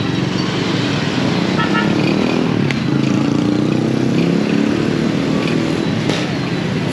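A motorcycle ridden near a school, its engine droning steadily as it passes amid continuous street traffic noise.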